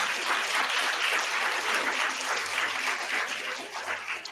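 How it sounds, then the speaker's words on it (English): An audience claps steadily for several seconds, a dense crowd applause that thins slightly toward the end. "So let's give a clap for Sharan"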